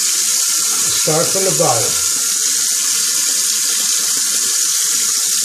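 Water from a tap running steadily while a razor is rinsed after shaving, a constant hiss throughout, with a man's brief speech near the start.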